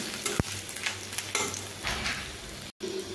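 Grated ginger, garlic and a bay leaf stirred in hot oil, a close sizzle broken by scraping spatula strokes and a sharp tap near the start, with a brief cut of silence near the end.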